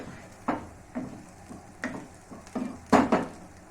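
Stir-fried chowmein vegetables with ginger, carrot, tomato and coriander being scraped from a pan onto a plate: a series of separate metallic clinks and scrapes of a utensil, spaced irregularly, with the last ones loudest.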